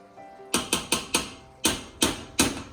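A can opener cuts around a tomato paste can in a kitchen, giving a series of sharp ratcheting clicks close to the listener: four quick clicks, a short pause, then three more at an even pace.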